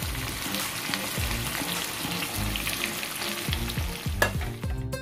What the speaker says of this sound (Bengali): এখন আমি মাংসের মধ্যে এই বাগারটা দিয়ে দিচ্ছি